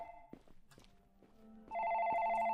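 A telephone rings in the Night Freak video game: repeated electronic bell bursts, loud and close, sounding alone after a quieter stretch with faint footsteps.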